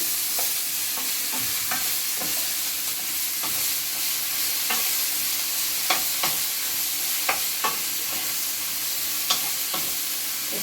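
Fresh eggplant is stir-fried in a pan: a constant bright sizzle runs underneath while a spatula taps and scrapes in irregular bursts, heard up close without any voice.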